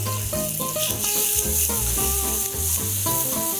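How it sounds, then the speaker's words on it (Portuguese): Butter heating for a sauce in a frying pan for ravioli, a loud, even sizzle that runs throughout, mixed with background music. "vou colocar um pouquinho de manteiga aqui na minha frigideira"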